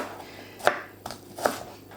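A few knife chops through onion on a cutting board, two sharp strikes and a softer one in between, close and fairly quiet with no talking.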